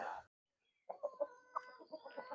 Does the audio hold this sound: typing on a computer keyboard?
no